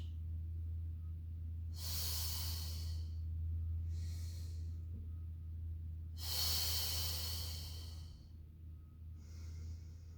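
Slow, deliberate breaths drawn in and pushed out during a Pilates mat exercise, two long airy exhales separated by shorter breaths, close and steady over a constant low background hum.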